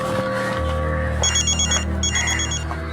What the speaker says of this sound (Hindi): डैडी का फोन है, मैं जरा बात कर लेता हूँ।